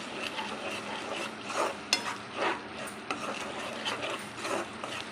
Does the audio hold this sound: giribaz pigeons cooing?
no